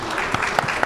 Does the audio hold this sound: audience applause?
yes